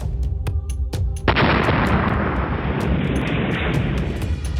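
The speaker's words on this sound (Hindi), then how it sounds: "कार में जोरदार धमाका हुआ और कार के परखच्चे उड़ गए।" An IED-laden car is blown up in Pulwama, Jammu and Kashmir: a loud, sudden blast that booms and then roars on as a sustained rumbling wash of noise, following a few sharp cracks at the start.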